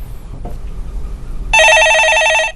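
Telephone ringing on a Korean stock-market call-in show: a loud electronic ring bursts in after a stretch of quiet room noise and rings steadily for about a second before cutting off.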